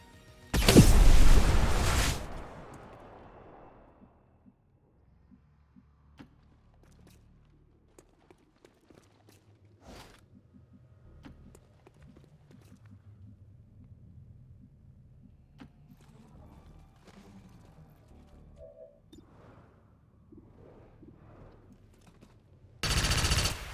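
Trench gun shotgun fired in XCOM 2: a loud, blasting shot at the start that rings out and decays over a couple of seconds, faint scattered clicks and movement in between, then another loud blast at the very end.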